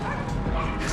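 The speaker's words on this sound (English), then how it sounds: "There's some cool dogs, as you'll see here." Several dogs barking and yipping close by on a busy small-town street in Excelsior, Minnesota, a quick burst of excited barks with a faint whimper, with people's voices murmuring underneath.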